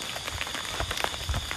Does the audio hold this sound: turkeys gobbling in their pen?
no